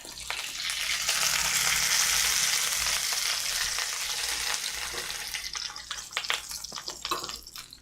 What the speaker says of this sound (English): Woo, this oil is popping me in the face.